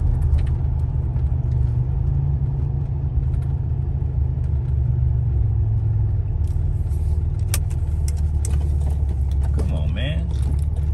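A turbocharged Buick Regal engine while cruising, a steady low droning rumble with road noise throughout, with a voice talking faintly over it.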